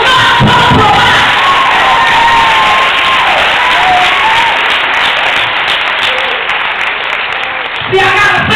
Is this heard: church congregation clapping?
yes